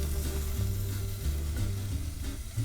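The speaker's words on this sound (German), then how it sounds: "Da kommen jetzt die Zwiebeln rein. Ein bisschen anschmoren." Chopped onions softening in olive oil in a pan as the base for a creamy garlic soup, giving a steady, close, low sizzle with faint stirring scrapes and no voices.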